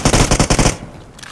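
Rapid automatic gunfire in a video game comes as a loud, close burst of about six quick shots, followed by fainter echoing shots.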